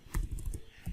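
Quick keystrokes on a computer keyboard while entering a terminal command on Fedora Linux, a handful of soft close clicks in a short burst.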